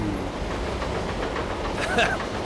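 A mine train roller coaster rumbles steadily along its track at speed, loud and continuous, with a rider talking over the noise.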